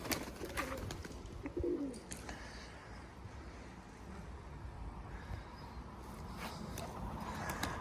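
Soft, low pigeon coos come in a short burst amid faint outdoor background noise and distant traffic, with a few quieter coos later.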